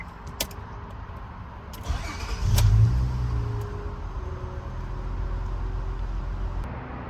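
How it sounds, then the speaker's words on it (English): A 2003 Honda Accord engine cranks and catches, then settles into a steady idle, with a brief louder surge at the start before a continuous low rumble. "You're going to go ahead and start the engine and ensure the check engine light is no longer on."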